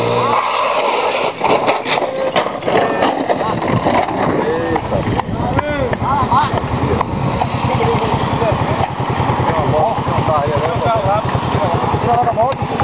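A motorcycle engine runs throughout at a fanfare event in Ubaíra, a steady close rumble mixed with buffeting wind noise, while people talk and shout over it.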